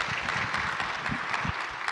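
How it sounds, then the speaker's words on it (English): Congregation applauding after music during a church worship service, a brief, steady burst of clapping at moderate volume, with some thumping low knocks mixed in. "Will you give her a round of applause?"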